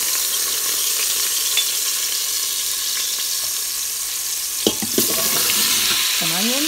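Chopped garlic and vegetables sizzle steadily in an Instant Pot, a close, even frying hiss throughout, with a few stirring clatters and scrapes near the end.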